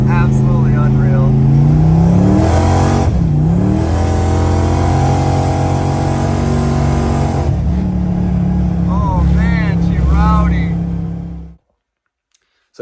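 A small car with tiny twin turbos revs and accelerates hard, the engine note climbing in loud rising sweeps, dipping briefly around three seconds, then pulling strongly again before cutting off abruptly near the end.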